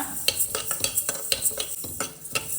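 Moong dal and toor dal are dry-roasted in a pan, a rapid, rhythmic series of close scraping stirs as the lentils rattle against the metal, with no talking.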